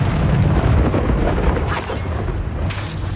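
A Confringo blasting spell detonates in Hogwarts Legacy, producing a dense, rumbling explosion that stays loud and broadband throughout, with sharper cracks flaring partway through.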